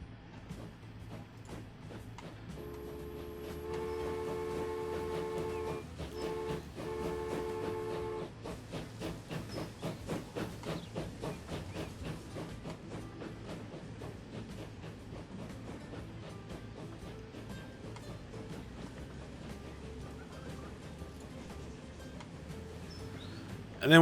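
A steam passenger train of clerestory coaches with a brake coach at the rear runs in the Transport Fever game, a whistle sounding early over steady hissing, chuffing and rhythmic rail clatter that continues to the end.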